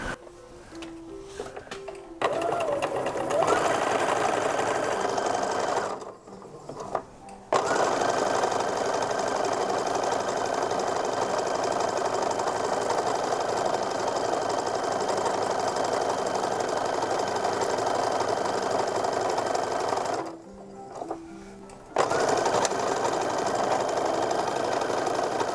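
A sewing machine stitching a seam on an infant slip runs with a steady mechanical whir and rapid needle chatter, stopping briefly twice between long sustained runs.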